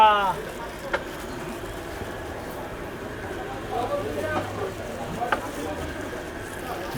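Beef simmers with salt in two pots at once, about half a kilo in each, giving a steady sizzle and bubbling that runs under people talking.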